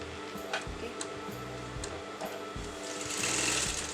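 Sewing machine stitching a Patiala salwar, a quick rhythmic chatter of the needle in short bursts with brief pauses, close and moderately quiet.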